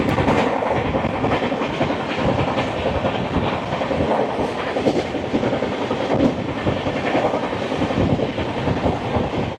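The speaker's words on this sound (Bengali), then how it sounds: "চলে আসছে train number 2211, mobile train Kamakhya কবিগুড়ি express" Kamakhya Kaviguru Express, train number 2211, rolling into a station: a loud, steady rumble of carriages with continuous rhythmic clickety-clack of wheels over rail joints.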